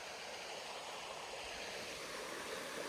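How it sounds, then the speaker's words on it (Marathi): A small monsoon-season stream in a Konkan village babbles steadily, a quiet, continuous wash of flowing water with no talk. "पाण्याचा खळखळ आवाज"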